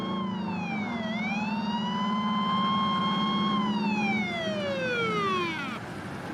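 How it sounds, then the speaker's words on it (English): An emergency vehicle siren wails loud and near, sweeping up and down in long steady tones close to a hospital, with traffic rumbling beneath. "I remember hearing the sirens, but we're very close to the hospital."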